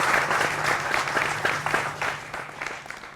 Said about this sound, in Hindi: जोरदार तालियों से सभी का अभिनंदन है।